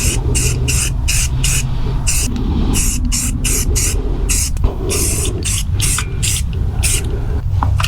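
Green spray paint applied in coats from an aerosol can onto a 1/10 scale rotator model, a rapid series of close, loud hissing bursts separated by brief gaps.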